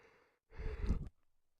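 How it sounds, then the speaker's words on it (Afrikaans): A person gives a loud, breathy yawn, a single gusty exhale of about half a second after a softer intake of breath, close to the microphone. "sorry, gaap ek nou baie lelik"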